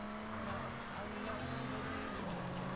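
A car is driven in the video game GTA San Andreas on a rainy night in the city, its engine humming steadily and faintly at a constant pitch, with no clear talk over it.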